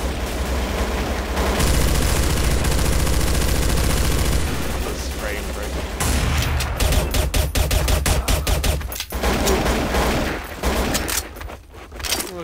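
Rapid gunfire from Counter-Strike: Source, with dense automatic bursts and sharp single shots cracking loudly in close succession, thinning into scattered reports toward the end.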